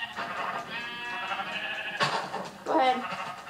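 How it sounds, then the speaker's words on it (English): Sheep bleat in the Minecraft video game, several wavering baa calls repeating over a few seconds at moderate volume. "I'm just gonna kill this sheep real fast."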